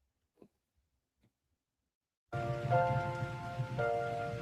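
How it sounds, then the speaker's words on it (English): Steady rain pours with a dense constant hiss after near silence, accompanied by a faint sustained tone in the background. "It's raining"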